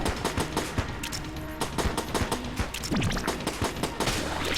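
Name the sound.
pistol gunfire in the video game Enter the Gungeon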